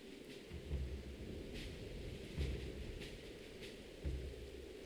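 Stormy weather in Hades II: a steady wash of rain with low thunder rumbles swelling a few times, moderately loud and continuous throughout with no voices.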